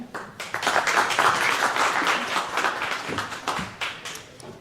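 An audience at the Pakistan - U.S. Tech Investment Conference 2025 applauds to welcome Rebecca, a dense, steady round of clapping from a sizable crowd that swells quickly and holds before gradually thinning out.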